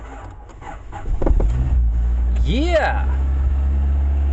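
A car engine cranks and catches off a jumpstart battery pack, a brief churning crank giving way to a steady running idle, with a cheer over it.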